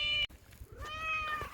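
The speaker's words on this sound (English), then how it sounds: "we have a new cat that I need to say hello" A new cat on a farm meows in close, drawn-out tones, two clear calls separated by a short break, fairly quiet and alone.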